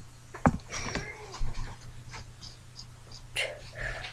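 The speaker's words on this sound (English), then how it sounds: "my dog's groaning again." A dog pants and groans nearby in a few short, breathy bursts over a quiet indoor hum.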